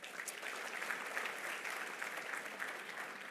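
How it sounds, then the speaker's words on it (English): Audience applause at an event honoring people over eighty, steady dense clapping from a crowd, heard at a distance and fairly quiet without any break. "We really applaud you one more time."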